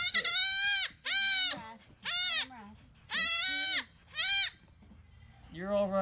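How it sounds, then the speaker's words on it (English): A young goat screams during disbudding, giving five loud, harsh, high-pitched bleats in quick succession, close and clear with short gaps between them. "The goat does scream."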